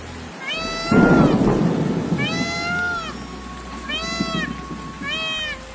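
Heavy rain pours steadily while thunder rumbles, with a cat meowing repeatedly over the storm.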